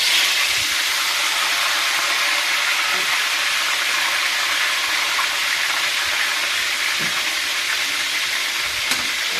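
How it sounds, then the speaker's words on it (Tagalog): Continuous loud sizzling of fish frying in a hot pan before going into miso, a steady hiss with occasional soft pops. "Sa kawali, prito ko muna bago yan sa miso."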